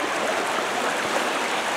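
A full, fast-moving California creek flows with a steady, close rushing wash of water that carries on without a break for the whole stretch.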